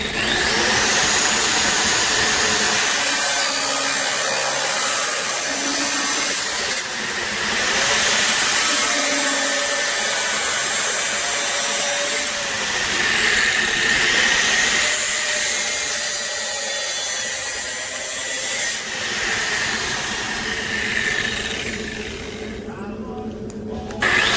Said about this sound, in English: Cutting out those corners, it doesn't hurt to go a little bit past your line